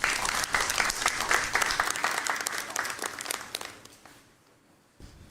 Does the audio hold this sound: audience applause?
yes